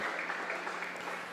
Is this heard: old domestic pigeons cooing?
no